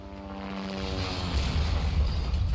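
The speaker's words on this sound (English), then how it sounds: "But as you can hear, we're basically starting off to where the helicopter crashes in." A helicopter crash scene in the Resident Evil 2 Remake video game: a loud, rumbling rotor and engine drone that swells and builds into heavy low roaring, continuous and close.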